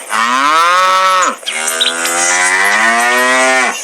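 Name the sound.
buffalo mooing in hunger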